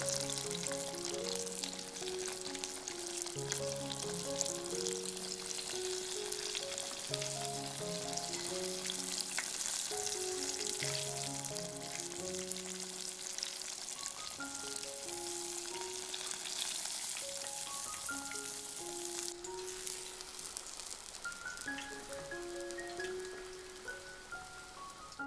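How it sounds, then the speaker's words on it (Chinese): Thai shrimp cakes deep-fry for a second time in oil near 200°C, producing a continuous, bubbling sizzle that runs beneath a melodic music track for the whole stretch. "下入虾饼，快速炸至变色即可捞出"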